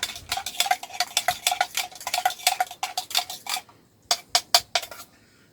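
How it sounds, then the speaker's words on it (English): A utensil scrapes and clinks against a bowl while bacon grease is whisked into an egg dressing for a Pennsylvania Dutch dandelion salad. The strokes are quick and rhythmic, with a short pause before a final few taps. "Give this another mix, because this bacon grease is actually incorporated into the egg now"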